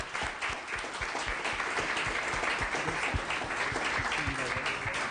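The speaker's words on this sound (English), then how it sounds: "I'd like to have a round of applause for an absolutely wonderful panel." Dense, steady applause from an audience at a town hall on career technical education, filling the whole stretch with sustained clapping at an even level and no talk over it.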